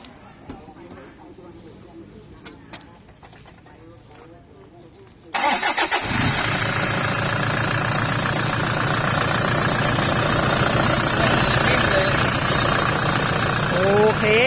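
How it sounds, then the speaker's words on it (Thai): A Toyota Vigo four-door pickup truck engine cranks and catches suddenly, then settles into a loud, steady, rumbling idle that continues for several seconds. "ขอฟังเสียงเครื่องหน่อยครับ"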